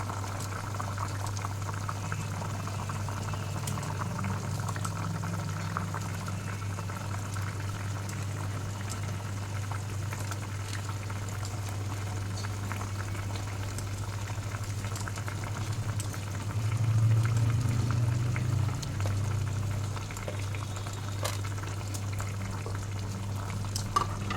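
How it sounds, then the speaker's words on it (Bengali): Curry broth boils in a pot, bubbling steadily and gently for a long stretch, then swells into a slightly louder rolling boil near the end; no talking. "ঝোলটা উতলে গেছে"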